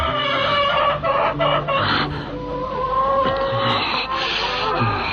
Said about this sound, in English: this is what it sounds like when chickens cry